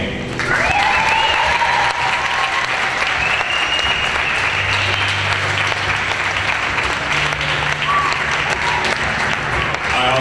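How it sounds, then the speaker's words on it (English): A theater audience at a school gospel arts production applauds the band with steady, loud clapping throughout, with some cheering and a few voices over the top. "give a great round of applause to our band."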